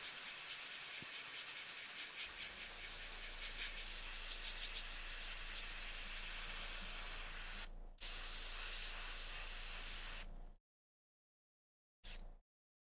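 Airbrush spraying paint with heavy overspray, a steady close hiss running for about ten seconds, cutting off abruptly, then a short final burst after a pause.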